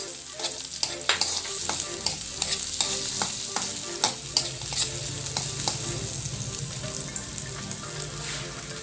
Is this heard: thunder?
no